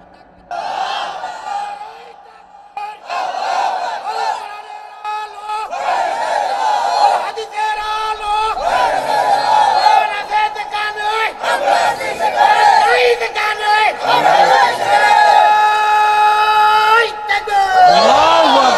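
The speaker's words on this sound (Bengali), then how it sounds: "একটু তাকবীর দেখতে চাই, দুহাত উঁচু করে, দুহাত উঁচু করেন, একটু তাকবীর দেন একজন।" A large crowd at an outdoor Islamic religious gathering (mahfil) in Satkhira chants takbir in loud, repeated swells of massed voices with a steady crowd roar beneath.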